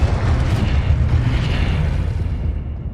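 A Confringo blasting spell in Hogwarts Legacy bursts into a heavy, booming explosion right at the start, its rumbling blast rolling on and slowly fading away over a few seconds.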